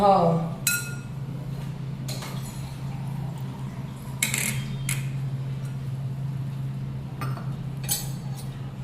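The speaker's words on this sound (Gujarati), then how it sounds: "બધું મિક્સ કરી લે." Chickpea flour and rice flour being mixed in a bowl for vegetable chilla batter, sounding as scattered sharp clinks of a spoon against the bowl every second or two over a steady low background hum.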